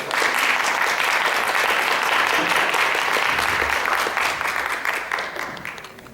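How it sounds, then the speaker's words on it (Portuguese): Sustained applause from an audience at a literary festival talk, a dense, even wash of many hands clapping that holds steady, then gradually thins and fades toward the end. "Com vocês, nosso tio. Palmas para ele."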